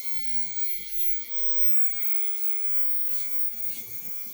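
A high-speed air-driven deburring tool spins at 100,000 RPM, giving a thin, steady, high-pitched whine with a hissing edge, close and continuous with slight pitch wavers as it works, and no speech.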